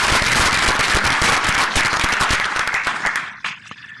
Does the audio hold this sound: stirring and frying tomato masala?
no